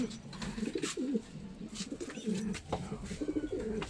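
Pigeons coo steadily in a rooftop loft where breeder birds are kept, with repeated soft, throaty calls from several birds close by, mixed with faint background rustling.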